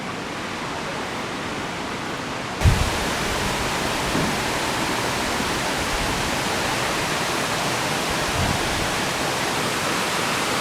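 Water pours out steadily near a cave with waterfalls, a continuous broadband roar, close and fairly loud, holding an even level throughout with a faint knock a few seconds in and no voices.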